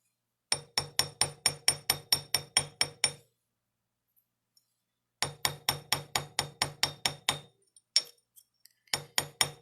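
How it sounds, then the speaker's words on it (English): Silver wire earrings being hammered on a hard metal surface, with sharp, ringing metallic taps in quick, steady bursts of about a dozen strikes each, separated by pauses and followed by a few scattered taps, heard up close and alone. "So I will hammer this one, and then I'll straighten it out with the ring mandrel."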